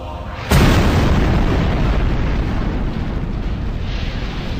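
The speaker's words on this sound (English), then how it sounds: "One shot penetrated the roof and ignited the gunpowder." A huge gunpowder explosion set off by an artillery shot through the roof of the Parthenon at the Acropolis in Athens bursts in suddenly after a short quiet lead-in, then roars on as a loud, sustained rumble.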